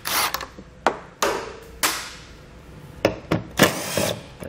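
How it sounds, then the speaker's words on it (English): A T30 Torx bit backs out the taillight fasteners on a 2020 Jeep Cherokee, giving sharp bursts of a power driver and ratcheting clicks separated by short pauses, loud and close, with no talk. "we'll use a T30 Torx bit to pull those out"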